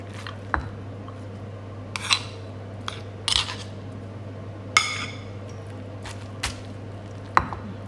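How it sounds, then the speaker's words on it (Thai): Pestle pounding fish into chili paste in a stone mortar, a series of separate dull thuds with clinks, spaced irregularly over a steady low hum. "ตำพริกแล้วเรียบร้อยเอาปลาลงไปเลยจ้ะพี่น้องจ้ะ"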